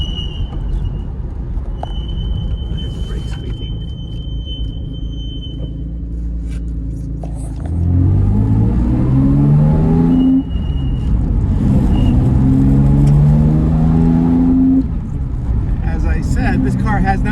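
A 1965 Jaguar XKE Series I 4.2 coupe, not driven for years, rumbles along steadily, then its engine swells louder with rising harmonic sweeps as it accelerates through gears, with talk heard early on.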